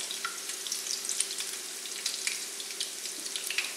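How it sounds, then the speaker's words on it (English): Egg foo yong omelets fry in hot oil, giving a steady, close, crackling sizzle with bright popping spatters throughout and no voices. "If the oil is the right temperature, the eggs will puff up and they won't be greasy at all."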